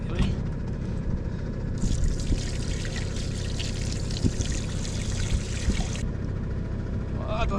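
Water pouring from a canister outdoors during a rye harvest, a steady splashing trickle that rises and falls against constant loud engine rumble.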